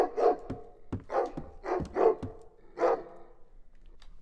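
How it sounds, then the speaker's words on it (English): A recorded dog barks about six times in short, separate bursts, each bark followed by a brief roomy reverb tail before silence, the last bark trailing into quiet. "we've got our dog bark in the short reverb."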